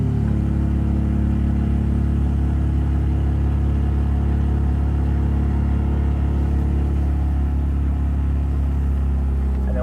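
A BMW E46 engine hums as the car drives, giving a steady, loud, low-pitched drone with a constant rumble and no clear revving or talking.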